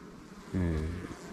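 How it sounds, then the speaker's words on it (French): Honeybees buzz at a crowded hive in a season-end apiary job, a brief low droning hum swelling up close for about half a second over quieter background. "c'est rempli d'abeilles"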